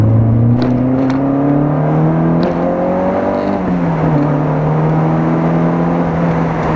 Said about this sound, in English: Naughty little motor. Lovely sounding raspy old motor.